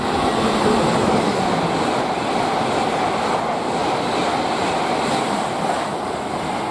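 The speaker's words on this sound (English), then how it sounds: "we have an IET bound for Cardiff" A Great Western IET train bound for Cardiff roars past at Didcot Parkway on the Great Western Main Line, a loud continuous rushing wash of wheel and air noise, close and unbroken throughout.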